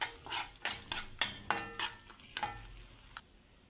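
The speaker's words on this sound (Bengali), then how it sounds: "এখন এটা ভালো করে ফেটিয়ে নেব।" Eggs being beaten in a bowl for vegetable fried rice: a quick series of light, clicking taps repeating about every third of a second, quiet and close, with no talking.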